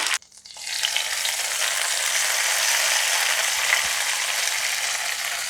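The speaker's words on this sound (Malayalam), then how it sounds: "ഇനി നമുക്ക് മാമ്പഴ പുളിശ്ശേരിയിലേക്ക് ഒഴിച്ചു കൊടുക്കാം" Hot mustard seed tempering with curry leaves poured into a Kerala-style ripe mango curry, a loud, steady close sizzle that bursts in abruptly and holds at full strength throughout.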